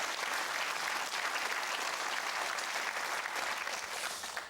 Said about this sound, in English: give Ian Hawthorne a huge round of applause